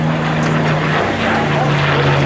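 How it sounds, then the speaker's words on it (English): A liquid-cooled propeller aircraft engine drones loud and steady through a four-point hesitation roll at an open-house air show, its tone shifting slightly as the plane pauses at each quarter turn. "Now let's watch Vlado Lenoch put it into a 4-point hesitation roll, stopping the aircraft each 90 degrees of rotation"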